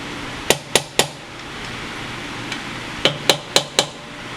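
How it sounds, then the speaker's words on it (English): A hammer taps clutch parts on a KLX 110 motorcycle being fitted with a manual clutch: three sharp metallic knocks, a pause with one faint tap, then four more quick close taps. "give them a little tap with your hammer, just to kind of help break up any kind of seizure inside of there"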